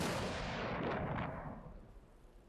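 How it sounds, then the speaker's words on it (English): Hydrogen gas explosion in a test demonstration: a sudden loud broadband blast that rumbles and fades over about two seconds, alone with no voices. "So hydrogen creates the fastest and the biggest explosion."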